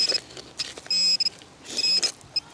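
A handheld metal detector sounds near a creek over a buried coin, giving several short high-pitched electronic beeps in uneven bursts, close and fairly clear against quiet outdoor background.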